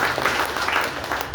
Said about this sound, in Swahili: Tuwapige makofi hata kabla hawajaona.